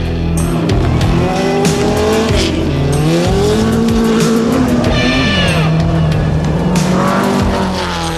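A car drives hard along an Icelandic back road past volcanoes and lava fields, engine loud and close throughout, revs rising and falling with gear changes while tyres squeal and skid.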